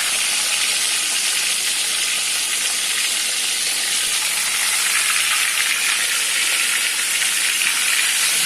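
Pomfret fish pieces frying in hot oil, giving a loud, steady, close sizzle with hissing spatter that holds evenly throughout and no talk.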